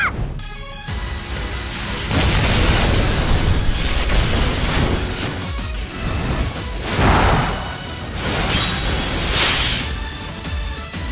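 Explosion blasts in the video game PSO2 keep up a loud, continuous roar, with repeated booms and bursts swelling and easing across the whole stretch.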